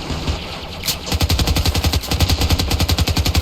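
Rapid automatic gunfire in the Ravenfield video game battle at Upper Blackwell, a brief burst then a steady, loud rattling stream of shots close by.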